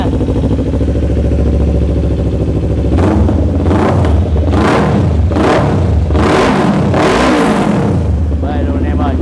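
A motorcycle fitted with carbon parts idles in a dealer's shop, then revs hard four or five times in rising and falling bursts, loud and close, with voices in the background.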